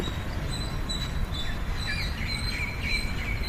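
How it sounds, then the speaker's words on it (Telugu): Birdsong, said to include koel songs and parrot calls, rings out in green, tree-filled surroundings used for daily yoga: repeated bright chirps and whistles over a steady hiss of background noise, with no voices. "ఉత్తమైన పచ్చని వాతావరణంలో కోయిల రాగాలు చిలక పలుకులు"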